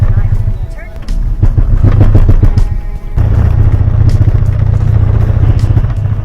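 A car with a failing CVT transmission judders and rumbles with heavy low engine-block noise, a loud continuous drone with a brief break partway through and some clattering on top.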